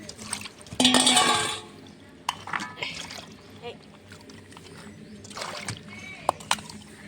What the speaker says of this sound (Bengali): সবজিটা কাটা হয়ে গেছে, ভালো করে ধুয়ে নিচ্ছি।